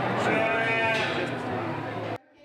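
Sheep bleating in the barn at a 4-H sheep show, a long wavering nearby bleat from one animal, loud and alone, ending abruptly in near silence.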